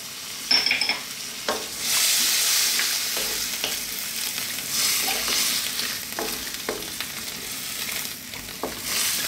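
Chopped canned whole tomatoes and tomato paste go into a pot for a chickpea cumin vegetable stew, producing a loud wet sizzle that swells, then settles into steady bubbling hiss with occasional spoon knocks.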